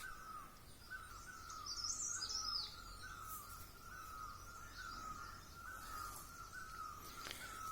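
Birds singing outdoors, faint and somewhat distant, with a bright warbling burst early on and scattered chirps over a soft constant insect-like tone and quiet background hush.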